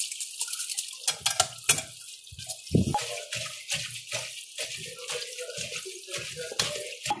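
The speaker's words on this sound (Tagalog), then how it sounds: "2 times natin siya lagyan ng tubig na malamig" A kitchen tap runs steadily into a sink while cooked noodles are rinsed in cold water, with intermittent clinks and knocks of a strainer and utensils under the hiss of the water.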